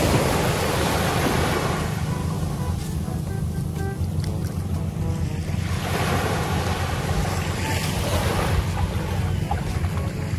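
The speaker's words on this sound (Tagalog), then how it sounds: "Ang dagat." Sea waves wash steadily onto a beach near a lighthouse in General Nakar, Quezon, a dense continuous rush of surf mixed with wind buffeting the microphone, with no voices.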